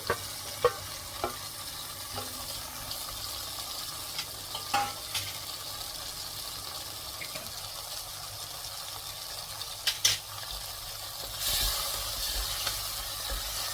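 Ginger garlic paste frying in a pan with tomatoes for a chicken fry, a low steady sizzle with occasional soft stirring scrapes and clinks, no talking.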